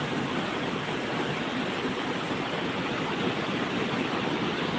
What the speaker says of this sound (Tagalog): Tignan mo yung agos ng tubig, oh. Yan ang agos ng tubig.